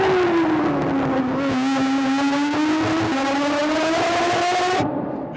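Aston Martin Vulcan V12 race car engine revving hard and loud, a sustained high-pitched howl rising through gears with brief shift breaks before cutting off near the end.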